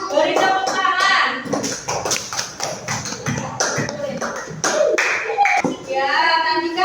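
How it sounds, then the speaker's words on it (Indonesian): Classroom applause as children clap for a group that came to the front; uneven, scattered clapping from a small group of students, mixed with voices and chatter, rising and falling in bursts. "Ayo beri tepuk tangan."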